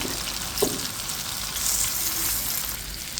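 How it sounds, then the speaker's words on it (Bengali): Cabbage pakoras fry in hot oil as they are turned, producing a soft, continuous sizzle with one small pop near the start. "উল্টে খুব সুন্দর করে ভেজে নেব"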